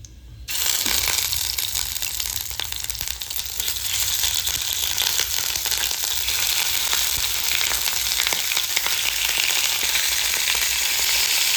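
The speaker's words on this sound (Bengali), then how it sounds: "আর গোটা গরম মশলা তার মধ্যেই কিন্তু আমরা দিয়ে দেব আমাদের কেটে রাখা চিকেন" Chicken pieces frying in a pan with whole garam masala, bay leaf and chilli, a steady loud sizzle running continuously throughout with faint stirring crackles and no talk.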